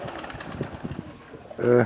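Pigeons at a fancy pigeon club gathering in Moschochori, soft low cooing and shuffling under faint background chatter, with a sharper engine-like tone rising at the end.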